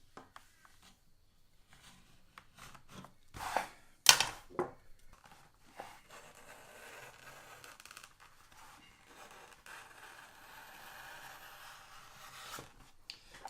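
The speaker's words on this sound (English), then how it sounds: "Just grab a knife and just cut that out so that my next strand hasn't got a big bit in it like that." A knife cutting and scraping through the plaited belly of a stockwhip, quiet irregular scratchy strokes with a couple of sharper louder cuts near the start, then softer rubbing.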